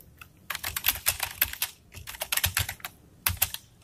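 Computer keyboard typing while entering program code: quick clusters of sharp, close key clicks with short pauses between bursts.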